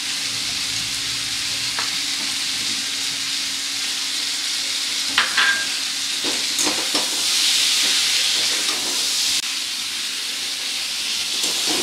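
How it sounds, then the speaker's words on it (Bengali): Mango and tomato fry together in a pan for a Bengali fish sour dish, a steady bright sizzle with occasional stirring scrapes and bursts of hissing steam, close and continuous. "আম টমেটো সব কিছু কিন্তু একসাথে খুব ভালো করে ভেজে নিলাম"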